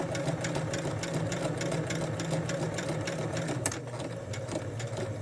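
Straight-stitch industrial sewing machine running steadily throughout, a continuous rapid mechanical whir with a faint click near the end, close and moderately loud with no talking.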